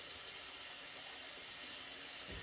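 Tap water runs steadily into a sink for rinsing, a soft continuous hiss and splash heard faintly and close, with no talk.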